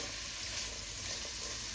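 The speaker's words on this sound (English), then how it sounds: "I'm going to saute the onions with the bacon." Onions sauté with bacon in its rendered fat for an Irish beef stew, giving a steady, even sizzle that hisses continuously at close range with no voices.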